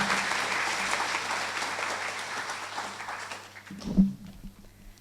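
A school assembly audience applauds to welcome speaker Sharon Ford, steady clapping from many hands that fades out over several seconds, ending with a brief nearby bump and near quiet.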